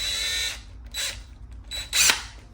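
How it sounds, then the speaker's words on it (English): A power drill spins up in short bursts to crank over a small engine built for drill starting, with a whirring motor and mechanical chatter repeating about three times, close and fairly loud. "the thing that I like most, I would say, about this engine is it's made to start with a drill"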